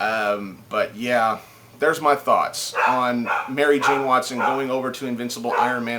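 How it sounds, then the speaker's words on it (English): A small excited dog barks and yips in the background of a home recording, with short bursts scattered under continuous close male speech throughout. "Sorry about the dog in the background."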